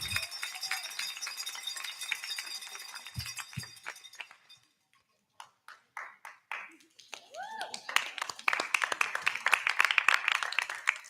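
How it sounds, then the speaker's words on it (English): A crowd at a Board of Education meeting applauds and cheers, with clapping, whoops and shouts rising toward the end after a brief lull. "Let's keep it clapping."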